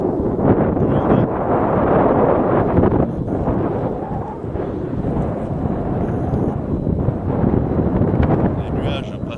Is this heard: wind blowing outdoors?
yes